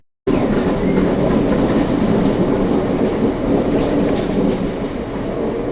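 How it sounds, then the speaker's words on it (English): A train pulls away from Bath Spa station, a loud close steady rumble of rolling wagons with a faint clickety-clack that holds evenly throughout and fades slightly toward the end. "There goes my train."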